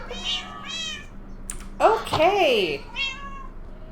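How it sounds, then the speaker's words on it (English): Several cats meow indoors, a couple of short mews followed by a louder, drawn-out yowl and another small meow, close by, with a person briefly speaking in between. "Don't all of you meow at once."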